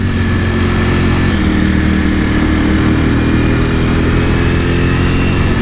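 Loud, steady engine note of a 2021 Ducati Panigale V4S motorcycle being ridden on a road on new tyres, a continuous close drone with a slight shift in pitch partway through and no talking.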